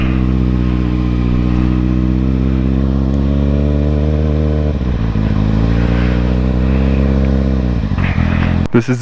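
A 2013 Kawasaki ZX6R sport bike hums loudly and steadily at cruising speed in Colorado, its engine note shifting pitch as it slows around the middle, with wind rush and a sharp clatter near the end.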